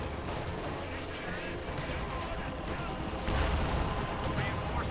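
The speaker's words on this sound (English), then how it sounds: "Pack gun does get 2 shots off." An anti-tank pack gun fires in a Company of Heroes 2 battle, a dense bed of game combat noise with a heavier blast near the end.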